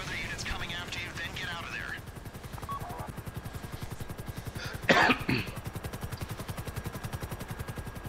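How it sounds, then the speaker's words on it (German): A helicopter in the game GTA V Online beats with a steady rapid rotor chop throughout, loud and close, while a voice sounds at the start and a brief cough-like burst cuts in midway. "Hubschrauber noch ausschalten"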